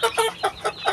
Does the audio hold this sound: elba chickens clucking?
yes